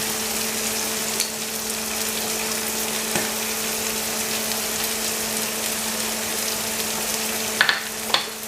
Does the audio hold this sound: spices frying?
yes